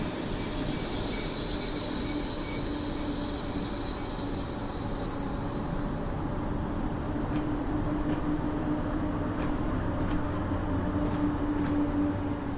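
Train wheels squeal with a high, sustained metallic whine over a steady rumble of two trains departing at once from Warszawa Zachodnia station in snow, loud and continuous throughout.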